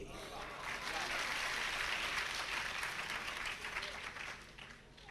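Audience applause bursts out right after a recited poem, a dense, steady wash of many clapping hands that holds for several seconds before tapering toward the end.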